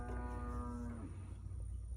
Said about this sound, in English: Oh, there's a cow out there.